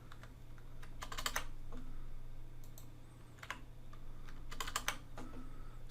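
Keys on a computer keyboard are pressed in quick bursts of clacking taps separated by brief pauses, quiet and close against a low background hum.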